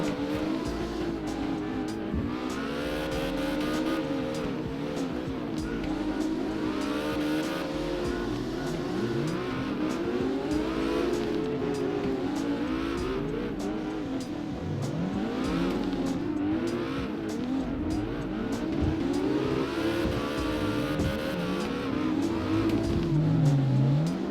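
Simulated Cobra S650 engine in CarX Drift Racing Online wails and revs continuously while drifting, pitch sweeping up and down with tire squeal mixed in, loud and steady throughout.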